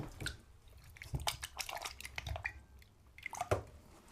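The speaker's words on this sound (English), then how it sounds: "just give your hands a quick rinse off" Hands being rinsed under running water during a clay workshop, giving soft wet splashes, drips and squishy sounds at close range, fairly quiet and uneven over a few seconds.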